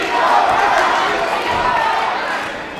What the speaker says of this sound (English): And the crowd.